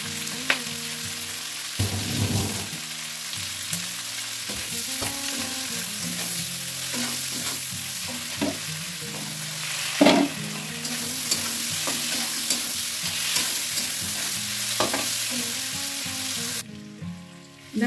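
Salted onions fry in a pan for chili chicken, a loud, constant sizzle close by with repeated scraping stir strokes and occasional clanks of the utensil, no voices.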